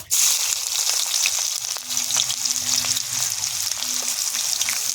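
Onions frying in hot oil in a hot pan with whole spices, dry red chilli and bay leaf, a steady dense sizzle running throughout with faint stirring scrapes, close and loud.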